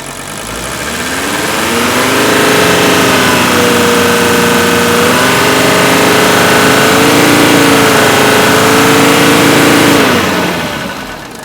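Close, loud diesel engine climbing from idle to a sustained high rev of about 3,000 RPM, holding a steady droning pitch before easing back down near the end.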